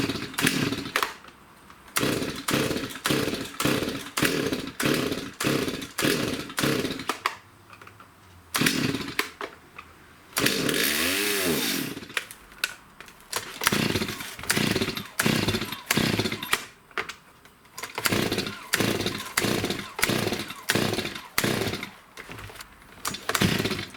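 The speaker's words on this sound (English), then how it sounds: "start up the chainsaw so that you can see how it's running improperly and how it's bogging down" A STIHL MS250 chainsaw runs roughly, its engine surging and bogging in a repeating pulsing rhythm, loud and close, with a short stall and a restart rev partway through.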